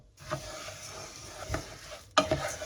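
Lentils stirred into oil in a pan on an electric hob, a soft steady sizzle with scraping stir strokes, then a sharper louder burst of sizzling near the end.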